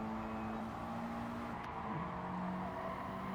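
Race car engine from a racing video game, a steady sustained drone with a brief pitch dip mid-way as the car shifts, continuous and fairly loud without speech.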